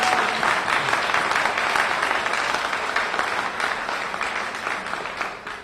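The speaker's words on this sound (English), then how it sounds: "Give her a round of applause." An outdoor groundbreaking crowd applauds Mayor Muriel Bowser with sustained, dense clapping that holds steady for several seconds before tapering slightly.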